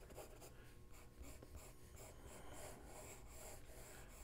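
A pencil sketches a cartoon rhinoceros head on paper, very faint, soft scratching strokes that come in short irregular bursts up close, with no voices.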